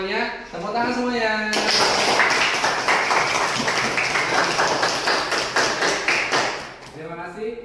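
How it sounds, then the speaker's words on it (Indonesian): A classroom of children claps hands together in a long burst of rhythmic, dense applause lasting several seconds, with a teacher's voice just before and after. "Tepuk tangan semuanya."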